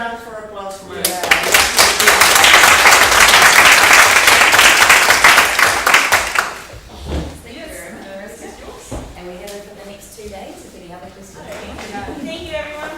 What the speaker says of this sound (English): another round for applause for Mariska.